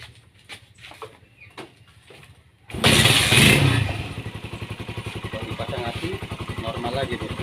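A Honda CB150R motorcycle, which had been stalling and hard to start, gives a few quiet clicks and thumps before its engine catches loudly and falls into a steady, pulsing idle close by.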